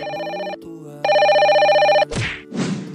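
Telephone ringing in an animated cartoon: two loud electronic trilling rings with a short gap between them, followed by brief rustling handset noises.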